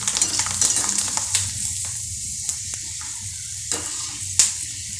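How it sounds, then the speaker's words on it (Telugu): Dry potato chips frying in hot oil, a steady close sizzle with occasional stirring clicks and scrapes, no talking. "ఇలా డ్రై అయిన ఆలూ చిప్స్ దొరుకుతాయి మనకి మార్కెట్లో, వీటిని కూడా వేసి ఫ్రై చేసుకుందాం"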